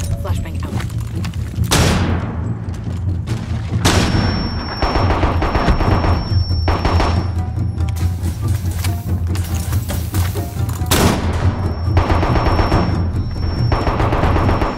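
Flashbang grenade going off in Rainbow Six Siege, sharp loud bangs followed by a lingering high ringing tone, repeated amid dense gunfire and thuds under a constant low background rumble.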